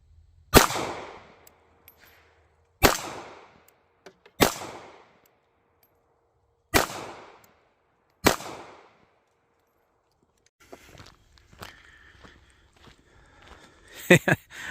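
Five sharp, loud pistol shots from a compact Ruger LCP Max or S&W Bodyguard XS, fired at about ten yards with uneven gaps between them, followed by quieter clatter and handling noise.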